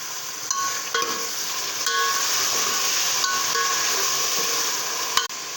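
Mutton goes into a hot pan of frying onions and turmeric, and a steady bright sizzle and hiss runs throughout, broken by a few light stirring clinks and one sharp knock near the end.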